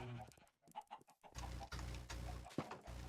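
Chickens cluck in a Minecraft Stoneblock 4 mob farm, a close cluster of short overlapping clucks and squawks with game noise underneath, no talking.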